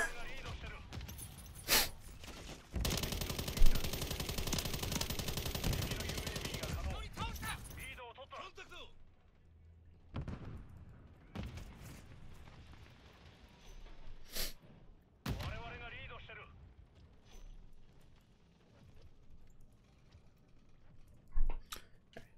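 Battle rifle gunfire in Call of Duty: Modern Warfare, sharp shots in bursts with a loud sustained stretch of firing early on, then scattered shots, mixed under someone talking excitedly.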